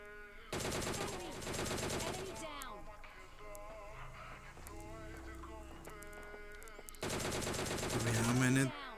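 Automatic gunfire in the mobile battle-royale game PUBG Mobile Lite, two long dense bursts of rapid shots at the start and end, loud and close, with quieter game sounds between.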